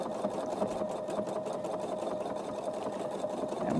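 A sewing machine runs fast and steady, stitching a quilt along a circle ruler with a rapid, even needle rhythm at close range and no voices.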